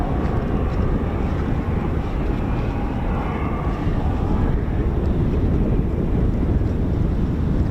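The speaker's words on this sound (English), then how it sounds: "It's just turning now, the KC-135." A US Air Force KC-135 Stratotanker turns near RAF airfield, its broad jet roar steady and fairly loud throughout, rumbling without voices.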